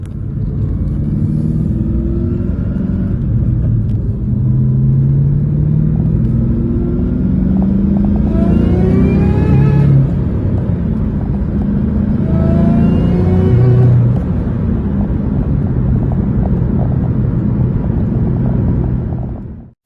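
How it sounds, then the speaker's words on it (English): A 2003 Mustang Cobra Terminator engine revs loudly and close by in repeated pulls, its tone rising and then stumbling and cutting out at high RPM, with a rough idle rumble between attempts. "the car is falling on its face when it gets into the higher RPM range and it's cutting out"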